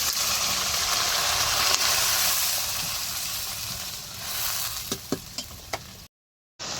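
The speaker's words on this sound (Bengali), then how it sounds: "পেঁয়াজটা ভাইজে এর মধ্যে আলু দিয়ে আলুটা ভাজা নিতেছে হালকা" Potatoes fry with onions in a pan, giving a continuous loud hiss and sizzle. A few sharp spatters or clicks pop near the end before a short break.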